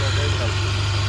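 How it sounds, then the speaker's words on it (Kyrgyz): A 2002 Subaru Impreza with a 2.0-litre petrol engine idles nearby, a steady low hum with a continuous drone, loud and unbroken throughout. "Мына от алып жүрүп турат"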